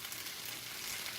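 Hash brown potatoes fry in a pan as they are flipped, giving a steady, close hiss of sizzling oil that holds even throughout, with no voices over it.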